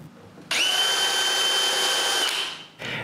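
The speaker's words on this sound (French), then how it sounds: "Je commence par percer des trous pilotes pour pouvoir visser les pentures en place." A power drill whines steadily at high speed while boring pilot holes for cabinet hinges on a wooden bathroom vanity, then spins down briefly before starting again.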